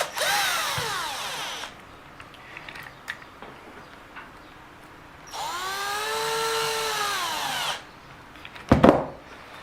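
Power screwdriver driving screws back into an Eachine EAT11 after a drop repair, two close whirring bursts with rising and falling pitch, then a short loud clack near the end.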